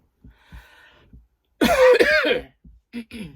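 A burst of harsh coughing up close, preceded by a few faint throat noises and followed by two shorter coughs.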